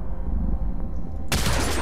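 A shotgun fires in the video game Hitman: Absolution, a sudden loud blast after a low rumbling game background, heard up close with no speech.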